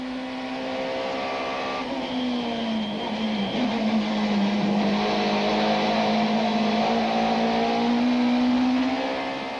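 Opel Vectra and Toyota Camry Super Touring race cars at Kyalami in 1995 accelerate toward a corner, a loud, sustained engine drone that rises and dips in pitch as they power through.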